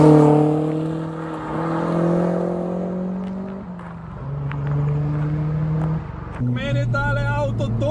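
Car engine with a mechanical limited-slip differential, bought in Greece, revving and shifting pitch while turning through a corner, loud and close with steady engine drone and rising tones near the end.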